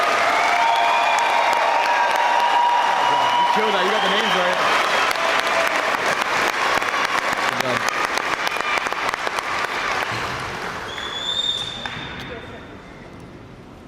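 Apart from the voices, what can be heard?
applause for graduating class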